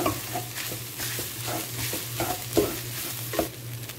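Chicken being stirred in a sizzling pan, a steady fry with soft rhythmic scraping strokes roughly every half second over a low constant hum.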